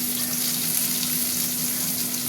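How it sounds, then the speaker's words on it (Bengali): Potatoes and onion frying in oil give a steady, close hiss and crackle that holds evenly throughout with no voices, over a constant low electrical hum. "এই যে আলুগুলো ভাজা ভাজা হবে, পেঁয়াজটা ভাজা ভাজা হবে"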